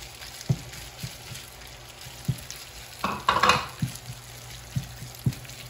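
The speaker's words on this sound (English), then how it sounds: "once we get that oil heated up in the pan, we're gonna go ahead and add in our rice" Rice tipped into hot oil in a pan for curry fried rice crackles and sizzles close up. Soft stirring knocks land at intervals, with a louder burst of frying in the middle.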